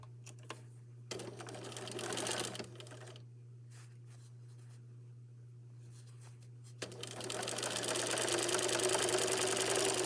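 A sewing machine stitches the side seams of a garment, running in busy rattling stretches over a constant low motor hum, with a long loud run at the end.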